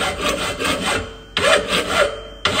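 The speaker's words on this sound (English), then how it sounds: "what I'm doing now, I'm just kind of roughing down the corner of the action." Hand file rasping across the corner of a steel Purdey gun action, roughing it down: steady, close scraping strokes in a repeated rhythm, two sharp restarts marking new passes, with no talk over it.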